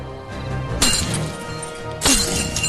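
Iron chains break in an animation sound effect: two sharp, bright crashing snaps about a second apart over a steady, sustained background.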